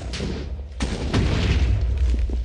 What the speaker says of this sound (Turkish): Ha, bomba atıyorlar lan.